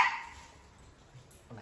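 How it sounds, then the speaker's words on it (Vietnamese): A dog barks once, sharp but somewhat distant, followed by a quiet stretch and a fainter yelp near the end. "nó sủa dữ lắm."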